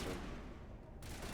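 Gunfire in the shooter game Legendary, including sniper fire: a short, dense burst of shots that fades, then a fresh loud shot, all close and heavy.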